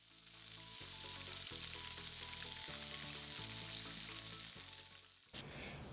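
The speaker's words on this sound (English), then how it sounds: "My pan was sizzling, it was ready for the tofu." Tofu cubes sizzle in a hot frying pan, a steady broadband hiss running throughout beneath a droning background hum, with a brief sharp break near the end.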